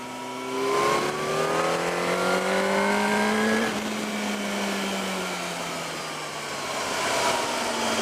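A Yamaha R1 motorcycle engine pulls hard through third gear, its pitch climbing steadily, briefly dropping at a shift-like break, then winding up again, loud and close.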